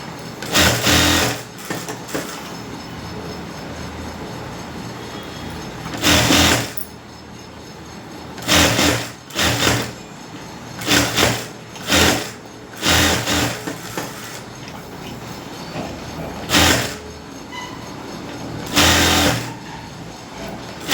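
Sewing machine stitching lining onto a blouse neck, running in repeated bursts of steady whirring with short pauses between, loud and close, no talk.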